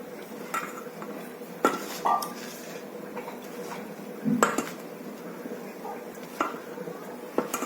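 Pakora batter of greens mixed by hand in a bowl: soft squelching and stirring, with scattered light clinks of the bowl and utensils at moderate distance.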